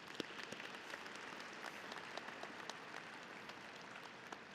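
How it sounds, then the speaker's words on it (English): Applause from a graduation ceremony audience at Libertyville High School in 2023, a continuous even wash of clapping that sounds fairly distant and soft, with no voices. "LHS graduates, let's give them all a big round of applause."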